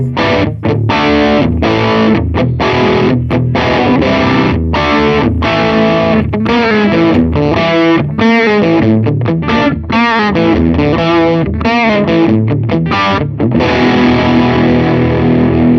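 Clean electric guitar through a Vox AC30 amp plugin, with no overdrive, delay or reverb, playing a steady run of ringing chords and notes alone, loud and close.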